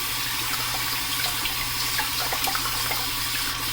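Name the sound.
hot water running from a tap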